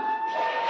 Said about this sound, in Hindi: टाइम खत्म हो गया, सायरन होने लगे।